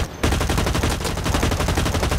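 Rapid automatic gunfire from the video game Blacklight: Retribution, a loud continuous stream of shots that starts abruptly after a brief lull and keeps a steady rhythm.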